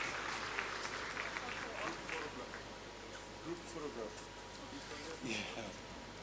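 Conference audience applauds panelists at the Digital Nigeria International Conference 2023 while they pose for a group photograph: steady, moderate clapping from a crowd, somewhat distant, with a voice talking over it.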